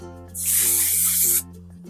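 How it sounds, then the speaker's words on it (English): A single steady burst of texture tease hairspray sprayed onto hair, a loud close hiss lasting about a second over a faint background hum. "And we'll just spray"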